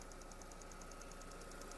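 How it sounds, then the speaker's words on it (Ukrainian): A Skoda Octavia engine with about 191,000 km on it idles steadily and faintly, a low continuous hum with a quick, regular ticking running through it. "Робота двигуна."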